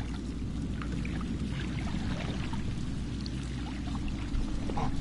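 A character wading through water in the video game Until Dawn, heard as a steady, close wash of sloshing and splashing water with a low rumbling undertone that continues without a break and with no talking.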